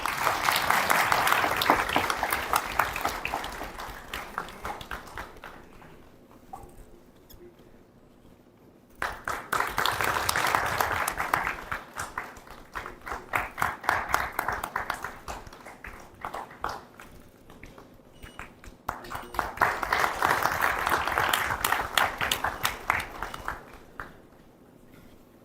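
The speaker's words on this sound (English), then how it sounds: "Let us have a huge round of applause" Audience applause at a Constitution Day felicitation ceremony, three separate bursts of clapping that each rise quickly and fade out, with quieter gaps between them.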